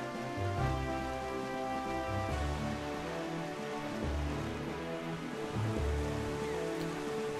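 Steady rain falling in the video game The Legend of Zelda: The Wind Waker, a continuous hiss of downpour layered with tonal in-game music and low rumbling sounds, with no talking.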